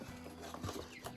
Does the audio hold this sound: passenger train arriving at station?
no